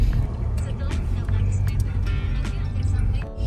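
A car rolls in to park at a scenic lookout area, its engine a steady close rumble that holds for a few seconds, with faint voices and outdoor activity around it.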